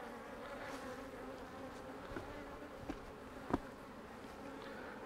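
Honey bees buzz steadily around an open hive during an artificial swarm and split, a dense continuous hum with a few brief louder passes close by, no voices.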